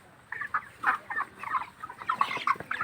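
Several 29-day-old broiler chickens on a poultry farm cluck and chirp repeatedly close by, short overlapping calls over a low farmyard hum.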